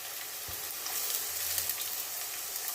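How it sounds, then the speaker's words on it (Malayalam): Finely chopped onions sizzle in hot oil for an egg curry, a soft steady hiss with faint crackles throughout a short stretch. "കുനുകുന അരിഞ്ഞത് ഇട്ട് കൊടുക്കാം"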